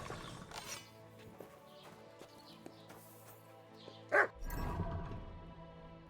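A dog in the video game Kingdom Come: Deliverance II gives a single sharp bark partway through, set against quiet game ambience with faint clip-clop and mechanical sounds.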